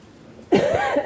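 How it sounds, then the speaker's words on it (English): A single short, harsh cough breaks a quiet moment, close and loud, fading within half a second. "Excuse my cough."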